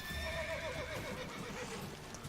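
A horse in a video game whinnies with a long, wavering neigh close by, trailing off into softer snorts over a couple of seconds without talk.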